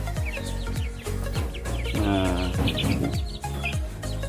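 Rhode Island Red chicks and chickens cluck and peep close by in a brooder, with a busy, overlapping stream of short calls and a few longer, louder clucks in the middle.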